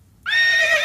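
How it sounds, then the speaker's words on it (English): A horse whinnies loudly and close, a single sustained, high, shaky neigh bursting in after a brief silence. "a horse sound effect"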